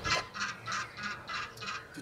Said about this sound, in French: C'est parce que le coq il baise une poule là.